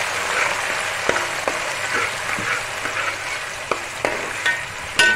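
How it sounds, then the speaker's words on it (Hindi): Two finely chopped medium onions fry in hot oil with a steady bright sizzle, punctuated by several sharp clicks of a spoon stirring against the pan; no one speaks. "अब इसमें हम सबसे पहले ये प्याज फ्राई करेंगे"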